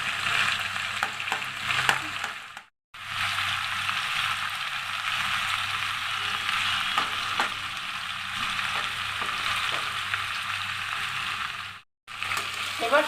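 Garlic frying in hot oil in a pan, a loud steady close sizzle that runs throughout and is cut by two short silent breaks.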